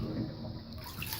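Water drains out of a touch tub bathtub with a steady, low gurgling rush, fairly quiet and continuous throughout, with no talking.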